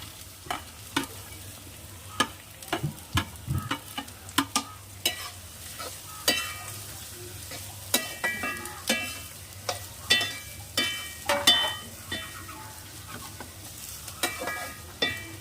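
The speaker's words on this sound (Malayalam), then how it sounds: "എണ്ണയിലേക്ക് ബീൻസ് ഇട്ട് കൊടുക്കാം." Green beans frying in hot oil in a pan while being stirred, a steady low sizzle broken by frequent sharp scraping and clattering stirs; close and moderately loud, with no talking.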